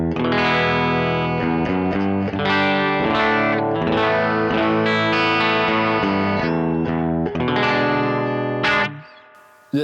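Electric guitar played clean through a Sonicake Warp Dimension modulation pedal and Levitate delay into an amp with the bright switch on, sustained chords and notes shimmering with chorus-like wobble and echoes, loud and continuous before cutting off near the end.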